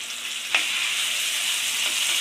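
Drumstick leaves and flowers sizzling in white oil in a pan, a steady close hiss with a sharp tap of a utensil early on and a fainter one near the end.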